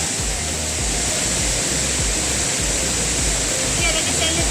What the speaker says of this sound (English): This waterfall actually has a total of 7 tiers, and now we are at level 5.